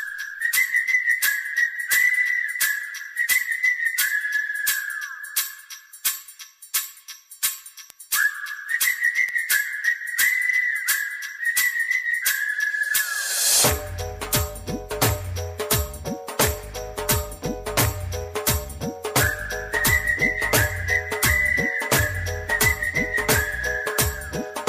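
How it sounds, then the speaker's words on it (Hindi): A Hindi film song carries a bright human-whistled melody in repeated phrases, first over light ticking percussion, then over a full band with deep bass beats and a brief shimmering cymbal swell. "नागेश जी की ही बजाई हुई सीटी है इस गाने में"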